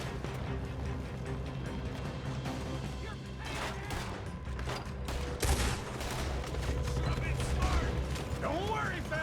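A shootout in Red Dead Redemption 2 crackles with rapid, overlapping gunshots and clicking weapon mechanisms. The firing stays continuous and fairly close, mixed with game dialogue and shouting.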